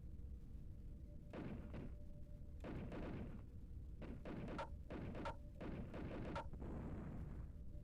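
A small tank in a video game under fire, a series of heavy, muffled booming thuds in quick clusters over a low rumbling background, fairly quiet overall.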